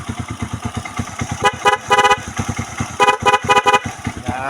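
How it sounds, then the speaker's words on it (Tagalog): Several short, loud horn toots from a motorcycle tricycle sound in quick bursts over its idling engine's rhythmic putter, all close up. "busina natin yun."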